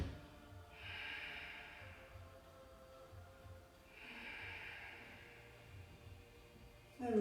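Slow, deep breaths during a yoga flow, two long airy exhales about three seconds apart, close and steady over a low background hum, no talking.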